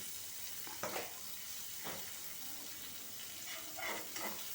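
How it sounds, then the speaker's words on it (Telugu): Curry leaves and green chillies crackle and sizzle in hot oil, a steady frying hiss with a few sharper stirring scrapes and pops, close and moderately quiet. "ఇందులో ఇంత కరివేపాకు, 4 పెరుగు మిరపకాయలు దీంతో పాటు వేగుతాయి అవిను"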